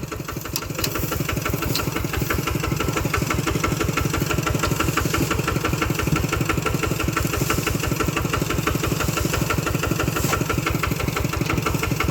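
A heavy diesel tractor engine chugs steadily at idle during a rice harvest, a loud, continuous rhythmic thumping that holds unchanged throughout with no voices.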